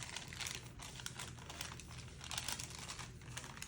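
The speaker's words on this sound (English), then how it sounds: "And this is just deli paper that I used." Thin deli paper crinkles and rustles continuously up close, with bursts of sharper crackling as it is handled.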